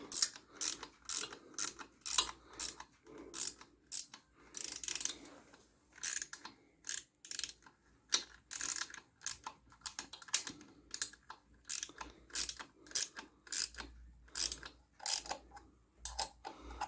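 Ratcheting wrench clicks rapidly while working on the cam chain tensioner of a 2002 Harley-Davidson Road King Twin Cam 88, a close, steady series of sharp mechanical clicks in repeated bursts with brief pauses, no talking.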